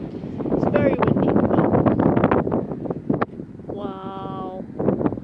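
Wind buffets hard at a high clifftop viewpoint, a loud steady rumble against the microphone, with a voice speaking over it and a brief tonal squeal partway through.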